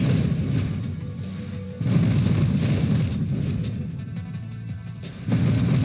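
Continuous booming blasts and crashing explosions from the space shooter game Nova Drift, dense and loud, surging in waves with no talk over them.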